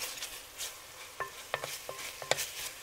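Potatoes and onions go into a pot of browning sausage for Zuppa Toscana, giving a few distinct clinks and scrapes of stirring over a faint, soft sizzle, quiet and close.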